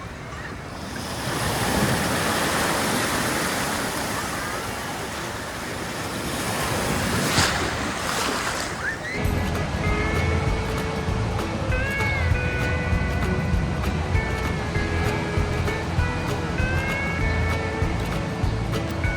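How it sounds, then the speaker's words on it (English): Ocean waves wash in on Waikiki beach in Hawaii, a loud, continuous broadband surf roar with wind for about half the clip before giving way to other sounds with steady tones. "It felt so good and it was really nice to hear the waves."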